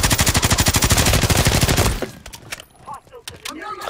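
Rapid automatic gunfire in an online shooter video game, a loud sustained burst of evenly spaced shots lasting about two seconds, then stopping as a few scattered sounds and voices follow.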